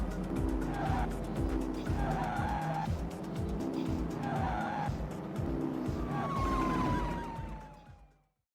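A car in a racing video game from a game jam drifts, its engine revving in repeated surges with a sharp tire squeal late in the run. The sound is close and loud, then fades out at the end.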